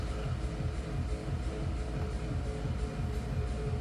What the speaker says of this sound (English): think this one sounds better.